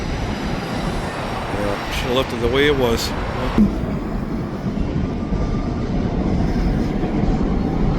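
Old BC Railway freight cars roll past on a train, a continuous rumble and clatter of wagons heard from an overpass, with someone talking over the steady noise.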